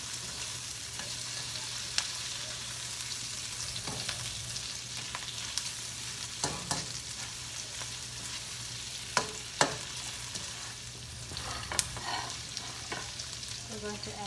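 Sugar peas and shrimp stir-frying in a pan, a steady quiet sizzle broken by scattered clinks and scrapes of a utensil stirring against the metal.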